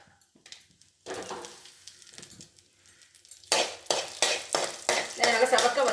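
Urad dal and dried red chillies frying in a little sesame oil, with a quiet start, then bursts of sizzling and scraping stirs that grow louder and more frequent toward the end; no talking.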